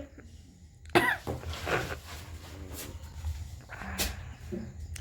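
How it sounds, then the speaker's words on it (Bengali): A loud cough bursts out, followed by a few rougher coughs and throat clearing, with faint background noise between them. "কাশি পাচ্ছে এইবার লঙ্কা হুম রাজ কাশি হবে"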